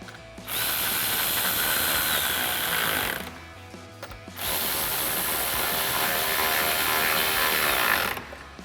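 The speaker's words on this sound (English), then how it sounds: "We'll go ahead and tighten those down with our 10mm socket." Two 10mm bolts on a 2018-2020 Ford F-150 headlight being tightened with a 10mm socket: two long, loud, close bursts of continuous whirring tool noise, with a short pause between them and no talking.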